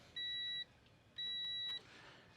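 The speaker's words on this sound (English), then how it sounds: "if I connect those, they beep." An inexpensive Chinese-made automotive fuse block gives two sustained high-pitched electronic beeps in a row, each about half a second long, clear and close with no voices.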